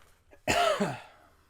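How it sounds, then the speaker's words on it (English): A single harsh cough bursts out close by after a brief quiet moment, then trails off with a short raspy tail. "Oh, yeah, I have cough."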